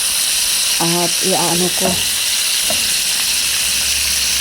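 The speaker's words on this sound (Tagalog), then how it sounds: "Yan, nilagyan ko ng tubig." Water is added to a pan of chicken frying with onions, giving a loud, steady sizzling hiss throughout while a voice speaks briefly near the start.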